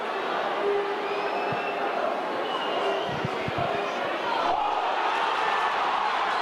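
Rugby league crowd at a Warrington match roaring in a steady, dense wash of cheering that fills the whole clip, loud and continuous, with commentary voices running underneath.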